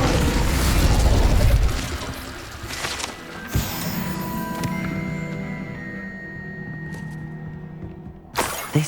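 A fire spell is cast in Hogwarts Legacy: a loud, low rumbling burst opens, then fades into ringing magical shimmer and tones, with a sharp sparkle returning near the end.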